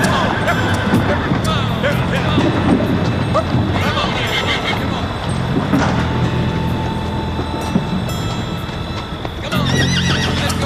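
Wild horses neigh and whinny loudly among hoof clatter and jostling, with a voice speaking over the herd noise.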